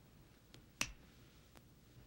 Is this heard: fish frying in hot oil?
no